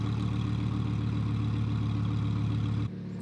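A sports car engine idles in sport mode with exhaust valves open, a deep, steady, throaty burble at close range, then drops abruptly to a quieter rumble near the end.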